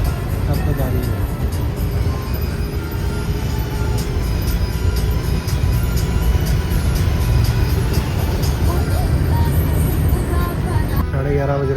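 Haryana Roadways bus on the road at night, a continuous loud engine and traffic roar with passing vehicles during an overtake, voices talking underneath.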